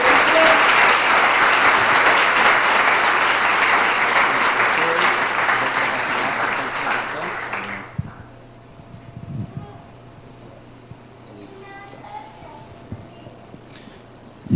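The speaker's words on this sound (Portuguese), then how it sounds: "com uma salva de palmas a Deus pela vida dele" Church congregation applause, dense and loud for about eight seconds, then cuts off abruptly, leaving a quiet room with a few scattered knocks and shuffles.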